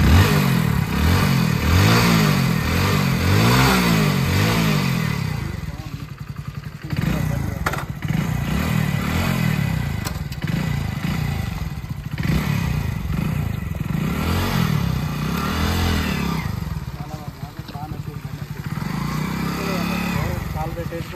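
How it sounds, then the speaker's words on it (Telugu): A Hero Splendor Plus motorcycle starting and idling close by, a steady pulsing engine putter with a couple of revs, while someone talks over it throughout. "సో చూడండి, బండి స్టార్ట్ చేస్తుంది."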